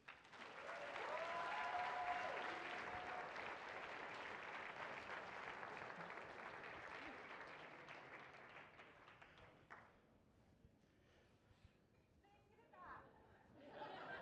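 Audience applause at a community radio awards ceremony, a long sustained round of clapping with a murmur of voices, fading out near the end before brief scattered claps return.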